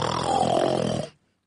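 A voice imitates loud, close snoring in one long rasping breath, which ends abruptly in silence.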